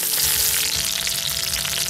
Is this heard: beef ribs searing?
yes